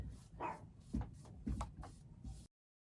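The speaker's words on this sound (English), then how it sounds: "Don't mind my dogs barking in the background." Several dogs bark in quick succession, muffled and somewhat distant, a handful of sharp woofs over about two seconds before it cuts off.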